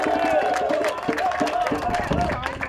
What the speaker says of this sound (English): let's give Reverend Pinkney another round of applause